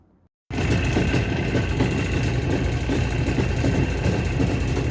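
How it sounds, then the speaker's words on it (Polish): A Jawa TS 350 motorcycle engine starts cold after a brief quiet moment, then idles loudly and steadily at just under 1000 rpm with a rough, even rumble. "Silnik jest jeszcze troszkę zimny, ale mamy tak niecałe 1000 obrotów"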